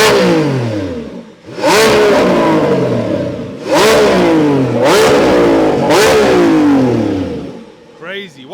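Lamborghini V12 engines, an Aventador SVJ and a Revuelto, rev hard nearby, with four loud rising-and-falling blips in quick succession, each swelling and dropping back toward idle.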